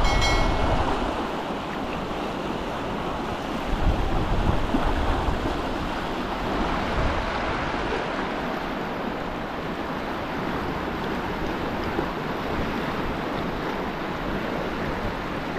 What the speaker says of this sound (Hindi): ये दरिया है और नदी भी बोलते हैं इसे।